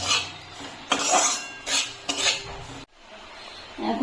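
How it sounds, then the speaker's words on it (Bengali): A spoon scrapes and clanks in a pan while cardamom powder is stirred into flour fried in ghee for homemade soan papdi, several close metallic strokes separated by short pauses. "এলাচের গুঁড়োটা ভালো করে মিশিয়ে এখন নামিয়ে নেব"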